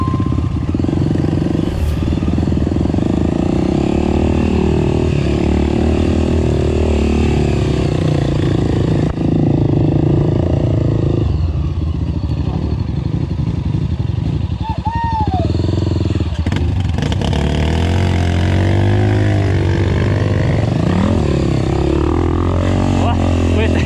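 A dirt bike engine drones loudly and continuously on an off-road trail ride, with throttle swells and the rattle of rough ground, while a rider talks over it.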